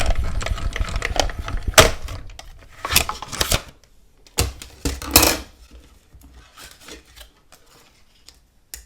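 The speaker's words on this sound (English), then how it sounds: "So I'm going to put it in through the machine, move it down, and keep on cutting until I get to the end" A manual die-cutting machine feeding a cardstock strip through with stitched-edge dies while batch making gingerbread and peppermint cards, giving a run of rasping, rubbing crunches with several loud bursts in the first half, then quieter cranking, with no talk.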